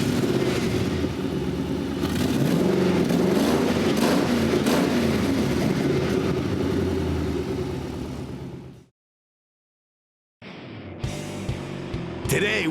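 A Ford 4.6-liter V8 in a Mazda B2500 pickup runs at a steady, loud rumble nearby for several seconds, dropping out into silence before other brief noises follow.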